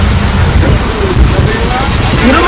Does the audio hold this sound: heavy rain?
yes